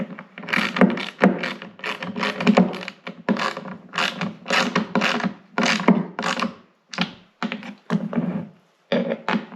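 Caster bolts on a snow blower rolling platform are snugged tight with a ratchet, giving a steady run of quick clicking ratchet strokes in short bursts, close up and without speech.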